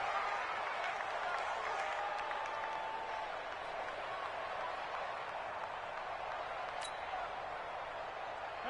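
A stadium crowd in a Madden football video game keeps up a steady, distant roar of cheering, a broad wash of noise with a few faint whistle-like tones near the start.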